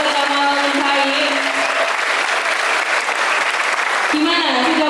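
Steady, dense applause from a school audience at a motivational seminar at a vocational high school in Turen, sustained for several seconds, with a voice heard over it at the start and end.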